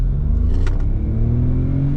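A 2026 Hyundai HB20 Platinum hatchback accelerates hard from a standstill, its engine droning loudly with steadily rising pitch heard from inside the cabin, without talk.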